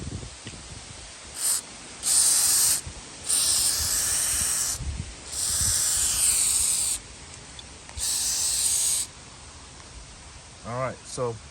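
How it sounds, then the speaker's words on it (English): WD-40 is sprayed onto the hood latch of a Ford Mustang II in a series of sharp, close hissing bursts of uneven length separated by short pauses, followed by a brief squeaky mechanical sound. "I spray it with some WD-40."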